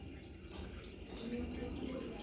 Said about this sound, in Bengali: কল বন্ধ করতে, জল পড়ে যাচ্ছে।